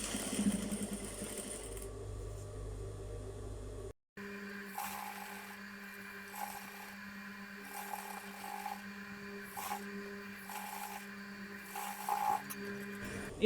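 A sewing machine stitching fabric runs in short bursts of rapid stitching, pausing between runs, close and fairly quiet with faint mechanical clicks.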